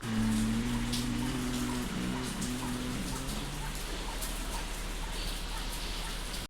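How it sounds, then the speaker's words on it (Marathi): Steady, dense rain pours down continuously, a loud even wash of noise with a low hum underneath in the first few seconds. "फुल जोरात पाऊस चालू आहे, तुम्हाला दाखवतो"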